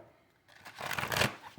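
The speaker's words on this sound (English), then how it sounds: "All right, we're just going to shuffle, okay?" A deck of tarot cards riffled and shuffled close by, a soft rustle building into a dense fluttering burst over about a second, with no talking.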